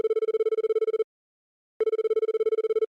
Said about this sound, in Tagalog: Ring, ring.